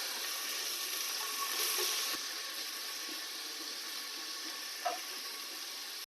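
Ginger, garlic and onion sizzle in hot oil for a duck egg curry, giving a steady, bright hiss with one brief knock partway through and no voices.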